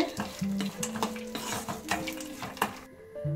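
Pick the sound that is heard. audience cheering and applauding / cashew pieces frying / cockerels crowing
cashew pieces frying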